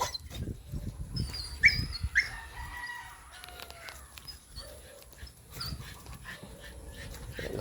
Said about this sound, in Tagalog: Dito na pala yung aso.